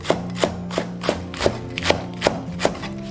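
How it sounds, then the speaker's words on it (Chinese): A knife chops washed mustard greens into small pieces on a board, about eight evenly spaced, crisp, close-up cuts in a steady rhythm. "把洗净的芥菜切小块"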